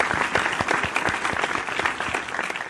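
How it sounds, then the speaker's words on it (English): A live studio audience on a morning talk show applauds warmly, with steady overlapping claps throughout and no voices on top. "He deserves a round of applause"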